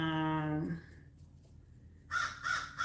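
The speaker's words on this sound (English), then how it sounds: "I'm outside, so y'all gonna hear some birds." A voice is heard briefly, then after a quiet stretch a crow caws three times in quick succession outdoors, fairly close.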